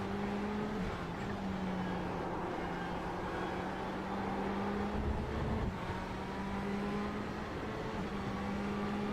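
Ferrari 488 GTE race car engine lapping Sebring at sunset in a racing video game, a steady loud droning whine holding one pitch with slight dips as the car shifts and corners, continuous throughout with no talk.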